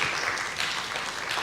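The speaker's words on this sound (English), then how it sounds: "A round of applause for Nicole" Audience applause for Nicole at the close of a talk, a steady dense wash of clapping filling the whole stretch at moderate level.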